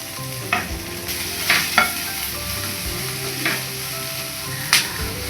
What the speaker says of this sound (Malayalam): സവാള സോഫ്റ്റ് ആകുന്നവരെ നമുക്കൊന്ന് വഴറ്റി കൊടുക്കാം.